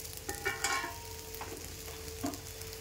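Bread dosa cooking on a pan over a low flame gives a quiet, steady frying sizzle, broken now and then by soft scraping and tapping sounds.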